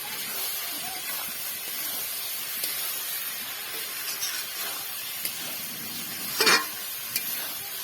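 Oil sizzles in a pan of spiced meat masala with a soft, continuous hiss and occasional stirring scrapes, with one brief sharper burst of sputtering near the end.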